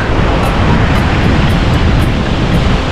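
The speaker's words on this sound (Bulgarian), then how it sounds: "Има доста добри вълни." Loud, close ocean surf breaking against rocks on the Norwegian coast, a continuous roaring wash of water with wind buffeting the microphone.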